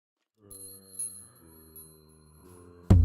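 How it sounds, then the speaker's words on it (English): Wind chimes in a Minecraft mod video game: a few clear metallic ringing tones that sustain and overlap quietly, ending in a sudden louder thud. "Just put the chime right here."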